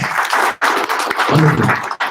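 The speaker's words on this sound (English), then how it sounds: "Let's give her a hand, guys." An audience applauds Tina McQuaid at a 1 Million Cups startup pitch event, steady close clapping that breaks off once in the middle before resuming.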